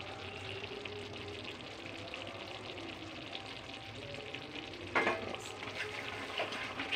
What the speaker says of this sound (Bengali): গরম মশলাটা আমি মিশিয়ে দিলাম